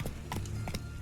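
Roach the horse gallops in The Witcher 3, quick clip-clop hoofbeats striking in a rapid uneven rhythm, fairly faint and close, in one brief burst.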